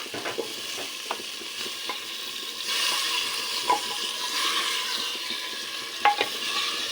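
Spices for a village-style potato and eggplant curry fry steadily in a pan, a continuous broadband sizzle with occasional scraping stirs and light clinks, no talking.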